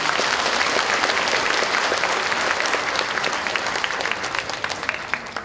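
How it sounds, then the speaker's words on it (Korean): An audience at a county talk concert claps in a steady, full round that thins out toward the end, crisp individual claps standing out as it fades. "다시 한번 큰 응원의 박수 부탁드리겠습니다"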